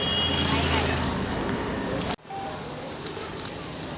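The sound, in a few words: road traffic noise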